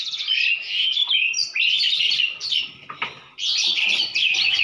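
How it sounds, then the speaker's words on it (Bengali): Several birds squabble and scuffle close by, giving loud, dense bursts of chirping and shrill calls with brief pauses and occasional flutters, continuous through the clip. "দেখুন পাখিগুলো মারপিট করতেছে"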